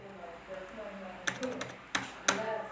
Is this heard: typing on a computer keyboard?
yes